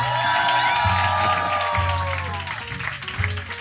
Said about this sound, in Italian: Siete pronti a fare un applauso per Marco?